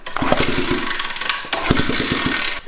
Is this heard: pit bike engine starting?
yes